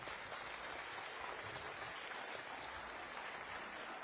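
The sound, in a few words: audience applause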